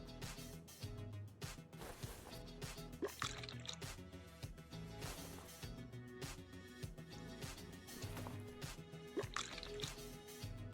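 Brake fluid draining through a drain tool in Car Mechanic Simulator 2021, a steady run of liquid drips and trickling squishes set against a busy, dense game soundtrack, with no speech.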